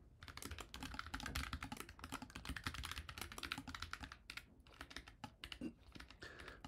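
Rapid, close typing on a computer keyboard while writing code, a dense run of quiet clicking keystrokes with brief pauses between bursts and no talking.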